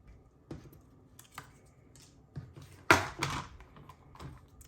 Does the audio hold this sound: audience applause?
no